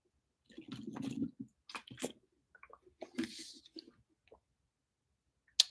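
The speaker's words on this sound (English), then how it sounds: "I'm drinking my smart water." Smart Water is sipped from a bottle up close: soft gulps, swallows and the squish of liquid, with breaths and small clicks between sips and a sharper noise at the end.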